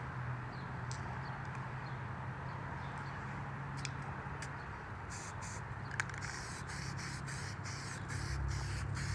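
A rattle-can of old spray paint hisses steadily onto tractor oil pans, a continuous close broadband spray with a few short pauses and bursts, under low background hum.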